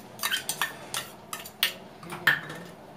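Spoon clinks against a metal pot as garlic paste is added to mutton in a home kitchen, a series of about eight light, sharp metallic taps spread irregularly, close and fairly quiet.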